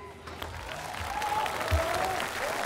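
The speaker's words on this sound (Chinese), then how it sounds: "各位继续掌声给到林星" Crowd applause at a televised basketball game during a timeout, a moderate wash of clapping that swells gradually, with a voice faintly audible over it.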